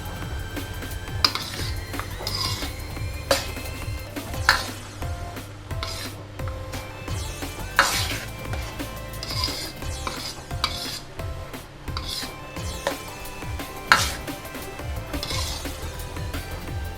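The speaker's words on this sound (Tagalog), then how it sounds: "Haluin lang natin siya dyan" A spoon stirs thick dinuguan, a pork blood stew, in a cooking pot, with steady scraping and scattered metal clinks against the pot over a low simmering hiss, close and alone.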